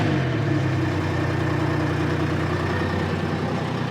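An old Michigan wheel loader's engine idles continuously, a steady low rumbling drone with even texture throughout, close and alone.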